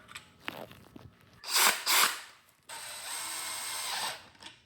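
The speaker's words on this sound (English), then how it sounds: "then I can zip them out with a drill like that" A power drill with a bolt chucked in backs out the upper oil pan bolts on a Ford 4.0L SOHC V6, giving two short whirring bursts and then one longer steady spin, with quiet ratcheting handling noises between them.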